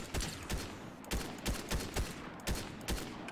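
Fortnite gunfire cracks out in about eight sharp shots at uneven intervals, loud and close in the game's sound, with no one speaking.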